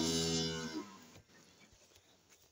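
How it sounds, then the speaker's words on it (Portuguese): A cow in heat moos loudly and close by in a dairy barn at milking time, one long harmonic low call lasting under a second, then fading into quiet shuffling and barn noise. "Essa vaca tá no cio."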